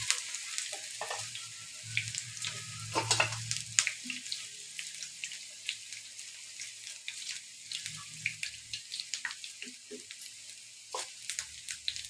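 Puffed rice and onion fritters fry gently in oil over low heat, a soft continuous sizzle with intermittent clinks and scraping sounds, close by and without speech.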